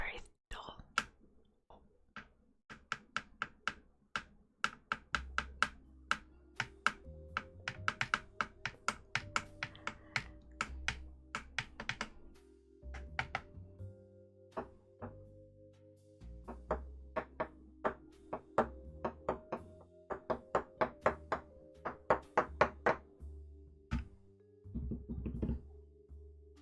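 Crisp, echoey taps on a keyboard in a close ASMR setting, arriving in irregular quick bursts with short pauses and a soft voice murmuring faintly in between.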